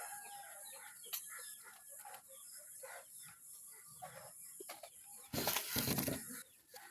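Chickens on a farm cluck softly and repeatedly nearby, with scattered short calls and a brief louder burst of flapping or rustling toward the end.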